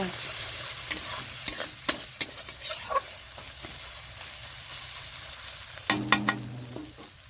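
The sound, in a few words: chopped tomatoes frying in oil while being stirred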